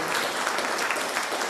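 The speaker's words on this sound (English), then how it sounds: "I want you to give yourselves a big round of applause" An audience at a celebration-of-life service applauds itself, a continuous, even rush of many hands clapping at moderate volume without pause.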